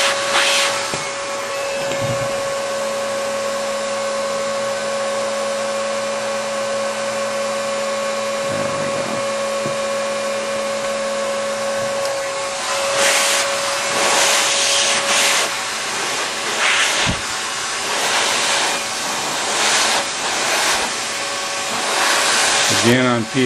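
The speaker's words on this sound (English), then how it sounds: "on PRT tubing, I'm just applying the heat to the overlap flap area only." Heat gun blowing steadily on PRT tubing at the overlap flap, a loud continuous whooshing hum with a steady tone throughout, shifting slightly as it is moved over the tubing.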